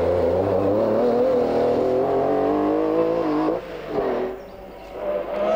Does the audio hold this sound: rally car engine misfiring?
yes